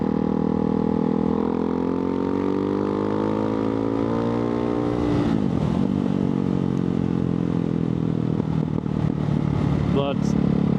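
A Ducati Hypermotard 698 Mono's large single-cylinder engine runs with a loud, steady harmonic drone that dips and shifts pitch midway, then holds again, while a rider talks over it.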